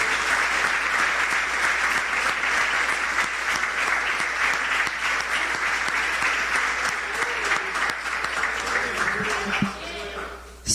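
A church congregation applauds in a long, full round of clapping that holds steady for about nine seconds, then tapers off as a voice begins to speak at the end.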